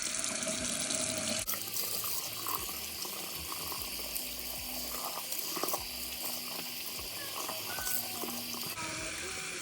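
Lukewarm tap water runs steadily into a sink as purple hair dye is rinsed out of a hair extension, a continuous close splashing with shifting spatter as the hair moves under the stream.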